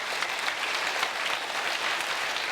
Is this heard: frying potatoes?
no